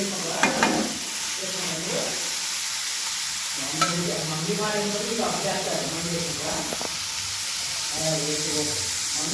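Broccoli fries in a pan while a spatula stirs it, giving a continuous sizzle broken by scraping strokes and clinks, with a person talking over much of the cooking.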